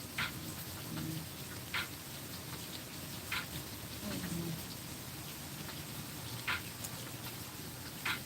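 Steady rain falls outside a balcony garden with an even, gentle patter and occasional louder drips, while faint sounds come and go in the background.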